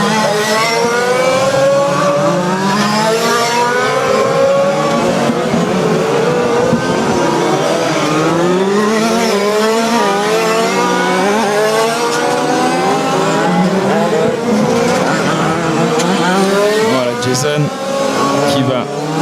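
Small-engined 1/5 scale RC Mini Cooper cars race on a track with repeated high buzzing revs rising and falling as they pass, some tire squeal, while a commentator talks over the engines.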